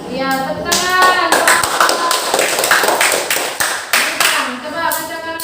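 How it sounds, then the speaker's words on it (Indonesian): Children in a classroom clap hands together in a quick, uneven burst lasting several seconds, with young voices chattering underneath the claps. "Ya, tepuk tangan."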